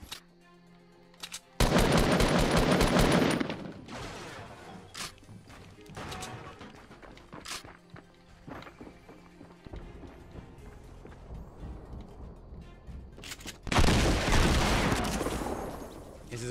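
Loud double-barrel shotgun blasts in the Fortnite video game, with two heavy bursts of fire near the start and end separated by quieter in-game action and scattered smaller impacts.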